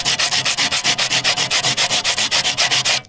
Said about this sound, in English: Just keep rubbing till you don't see any rust anymore.